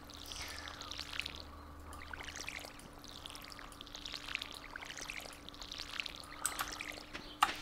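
Watering-can sound effect from the Stardew Valley farming game, a soft repeated pouring swish that rises and falls about five times in steady rhythm over a faint background hum, with a brief sharp chime near the end.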